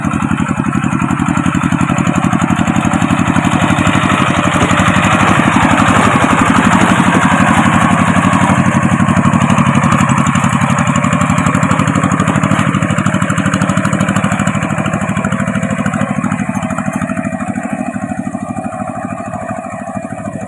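A rice field tractor engine runs steadily while working the land, a loud continuous chugging drone that holds for the whole stretch and eases slightly at the end.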